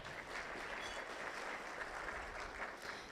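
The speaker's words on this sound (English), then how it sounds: "Another round of applause for them, please." Steady audience applause at a business event honoring board members and a local representative, a dense even patter of many hands clapping throughout, fairly quiet and distant with no talk over it.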